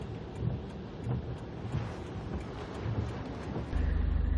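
A rough, blustery roar of typhoon wind buffeting the microphone with rushing heavy rain beneath, steady and heavy, with a low rumble near the end, in Bagabag, Nueva Vizcaya, Philippines.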